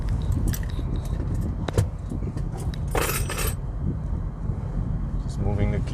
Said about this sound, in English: Just moving the keys.